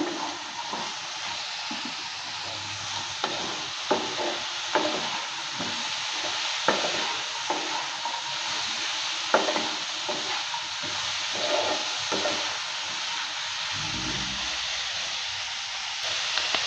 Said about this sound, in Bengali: হলুদ গুঁড়ো দিয়ে দিচ্ছি 1/2 চামচ। লঙ্কার গুঁড়ো দিয়ে দিচ্ছি 1/2 চামচ। দেওয়ার পর নেড়ে চেড়ে নিচ্ছে।